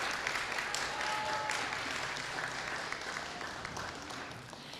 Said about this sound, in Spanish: Otro aplauso, por favor, también.